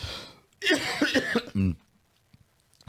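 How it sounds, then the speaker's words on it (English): A single short, hoarse cough rings out after a burst of muffled throat noise, close and fairly quiet, followed by near silence. "I have to try to hold back that cough"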